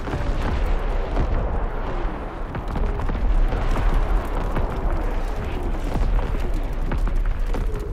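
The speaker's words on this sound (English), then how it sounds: "Incoming enemy artillery! Get to cover!" Enemy artillery bombardment in the World War II shooter Call of Duty: WWII: a continuous barrage of heavy booms and blasts, densely overlapping and loud, rumbling steadily for the whole stretch with no speech.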